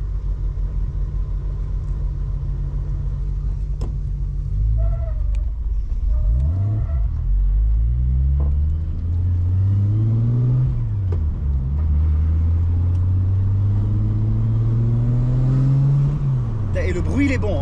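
A Porsche 911 Turbo engine revs and climbs through the gears with a deep rumbling roar, heard from inside the car, with occasional voices over it.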